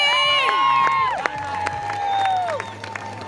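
A crowd at a triathlon finish line cheers, claps and whoops, with loud bursts and high shrill whistles rising and falling over steady clapping for a few seconds.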